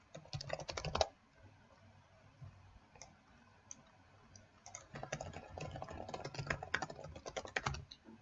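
Rapid bursts of clicking keys on a computer keyboard, close and crisp, with a short fast run, a pause with only a few taps, then a longer stretch of quick typing.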